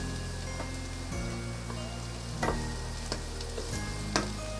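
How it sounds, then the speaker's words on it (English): Chopped leek sautéing in a pan over medium heat for tomato and basil soup, with a continuous close sizzle broken by several sharp clinks and scrapes of stirring and no talking. "we're gonna saute the leek"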